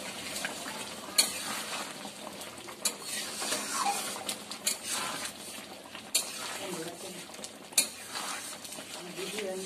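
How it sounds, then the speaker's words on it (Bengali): A spatula stirring aloo dum with sugar and garam masala in a pan, soft scraping and clinks against the metal over a low sizzle, with a few sharper knocks, fairly quiet throughout. "এবার আমি চিনি আর গরম মশলাটাকে খুব ভালোভাবে আমি মিশিয়ে নিচ্ছি"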